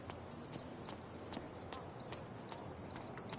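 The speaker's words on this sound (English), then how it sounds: "I hear birds this way." Rapid repeated bird chirps in the video game Life is Strange: True Colors, evenly spaced and fairly bright, over a soft ambient bed with light clicking.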